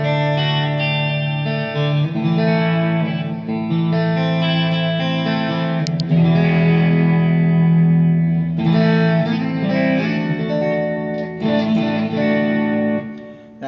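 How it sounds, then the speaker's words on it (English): An HB ST-62 BK Vintage Series electric guitar playing sustained chords and notes, washed in reverb with a shimmering chorus effect, steady and fairly loud throughout. "So here it is with some reverb and some chorus."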